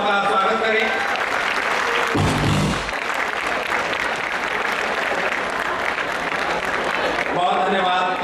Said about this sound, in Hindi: आप सभी से ये निवेदन कर रहा हूँ कि जोरदार तालियों से इन महानुभाव का स्वागत करें।